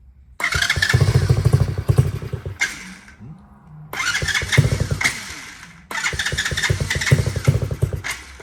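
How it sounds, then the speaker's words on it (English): A QG213A dirt bike fires up from the electric start button, its engine catching and revving in three loud bursts separated by short quiet gaps, sputtering between pulls, close by with no talking. "So you turn the key on, pick up the choke, make sure it's in the run position here, and hit the start button."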